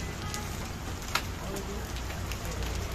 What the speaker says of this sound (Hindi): ओले यहाँ पे पड़ रहे हैं ओले